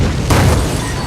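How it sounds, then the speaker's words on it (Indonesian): A car blows up inside a tunnel in a disaster film, a single loud burst of noise lasting a fraction of a second over a constant rumbling soundtrack. "tiba-tiba mobil si Roland meledak."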